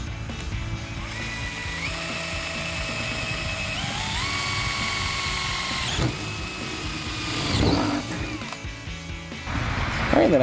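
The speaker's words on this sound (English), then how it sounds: "after that, you drill all your holes" A power drill whines and revs, drilling holes to install a rear spoiler on a 2010-2014 Ford Mustang, its pitch stepping upward as it bites into material, then cuts off before a brief clatter and renewed whirring.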